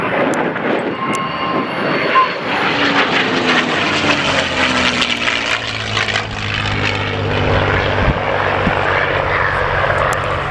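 A P-51 Mustang propeller warbird from the Hangar 11 collection flies an airshow display at Scampton, its loud engine snarl rising and falling in pitch as it passes close overhead, with a sustained drone throughout.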